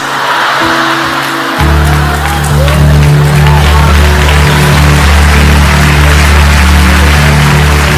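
A church congregation applauds at a service, producing a dense, sustained crowd clapping over a steady low rumble and building in loudness after the first couple of seconds, with faint cheering mixed in.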